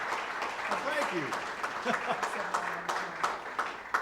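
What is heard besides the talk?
audience applause welcoming the lecturer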